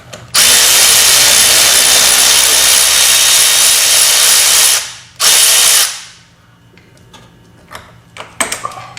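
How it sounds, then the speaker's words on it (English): A loud, continuous high-pitched whir of a cordless Milwaukee power ratchet loosening bolts on an Audi TT runs for several seconds, cuts out briefly, bursts again, then stops, leaving faint clinks and handling noises. "I'm going to go get a Milwaukee ratchet now that they're loose and hopefully buzz them out pretty quick"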